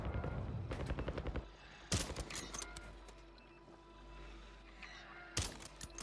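Sharp rifle shots ring out in the Warzone video game, a few separate cracks with echoing tails spread across the stretch, amid quieter in-game sounds between them.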